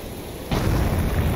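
A thunderstorm at a castle in an Amnesia custom story breaks into a sudden loud rumble of thunder over steady rain, swelling abruptly halfway through and holding as a broad roar.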